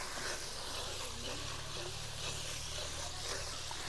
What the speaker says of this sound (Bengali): কাজু পোস্ত ভালোভাবে ভাজা হয়ে গেছে, তেলও ছেড়ে দিয়েছে